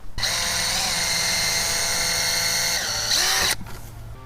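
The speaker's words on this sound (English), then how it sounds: "I'm going to pre-drill my holes to make these a little easier going in." A power drill pre-drilling holes while fixing a fence gate whirs loudly and steadily for about three seconds, its pitch shifting slightly under load before it stops abruptly.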